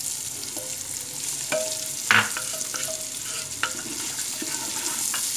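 Meat fries and sizzles in a pan for a Brazilian quiabada, a steady close crackle broken by a few sharp clinks and scrapes of a utensil stirring.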